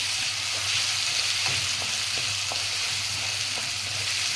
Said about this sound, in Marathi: एक चमचा मी अद्रक लसूणची पेस्ट घालते हे बघा मी चांगले फ्राय करून घेते